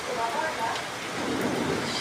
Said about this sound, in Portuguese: Chuva, chuva, chuva abençoada.